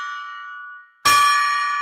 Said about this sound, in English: let's ring the golden gong